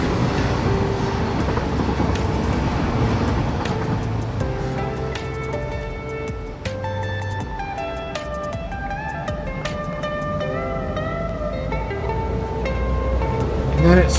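A train rolls along the track in the factory-building game Satisfactory, a loud continuous mechanical rumble with rhythmic clacks and tonal hums as it passes, with a voice talking over it.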